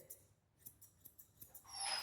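Large grooming scissors snip through a Yorkiepoo's fur in a few light, crisp cuts spaced a fraction of a second apart, close up and quiet, before a louder hiss comes in at the end.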